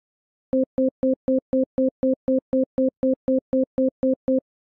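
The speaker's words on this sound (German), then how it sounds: "die meisten Rechtshänder den hohen Ton rechts und den tiefen Ton links" A steady series of about sixteen short tone bursts pulses evenly, each pairing a high and a low pitch played dichotically over headphones, one tone to each ear, clean and alone against silence.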